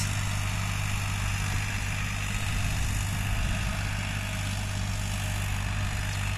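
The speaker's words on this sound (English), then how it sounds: "farming by tractor machines." A tractor engine runs steadily on a farm in India, a constant low idling drone with a strong hum, heard alone without any talking.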